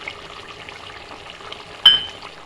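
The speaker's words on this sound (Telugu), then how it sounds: "ఇదిగోండి చికెన్ కొంచెం కుక్ అయ్యాక ఇందులోకి అల్లం వెల్లుల్లి పేస్ట్ వేసుకుంటున్నానండి" Chicken frying with ginger garlic paste for a biryani keeps up a low, even sizzle, broken by one sharp metallic clink of the stirring spoon against the pan near the end.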